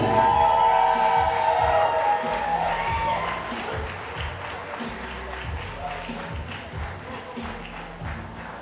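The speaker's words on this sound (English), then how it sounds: "Ladies and gentlemen, let's give them one more big round of applause." Guests at a wedding walima at a manor clapping and cheering, a steady crowd applause mixed with rhythmic thumps from music, loud at first and easing slightly.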